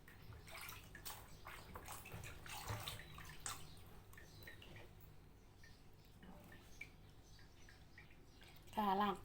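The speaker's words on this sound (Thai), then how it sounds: "ล้างแตงค่ะ" A Thai cantaloupe melon is washed in water, giving soft splashing and trickling at low level through most of the stretch, with a louder burst of sloshing near the end.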